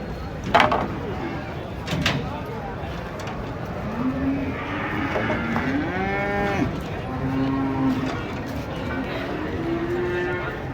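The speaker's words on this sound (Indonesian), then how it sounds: "Sapi kurban mulai berdatangan" Several qurban sacrificial cattle moo one after another as they arrive by truck, long drawn-out lowing calls at moderate distance, over a steady background of crowd and outdoor noise with some voices.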